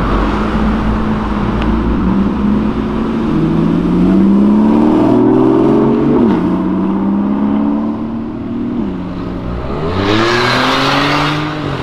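A Nissan GT-R accelerates along a city avenue, its engine note climbing through gears in a loud, close roar, easing off, then surging again near the end.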